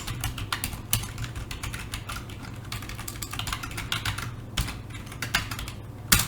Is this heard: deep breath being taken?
no